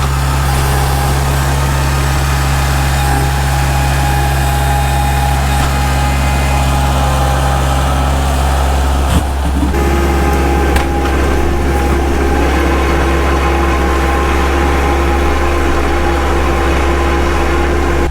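A Kubota L4701 tractor engine runs steadily while breaking up hard-packed snow during roof and snow clearing, a continuous loud drone with a low hum that shifts slightly in pitch partway through, heard alone without talk.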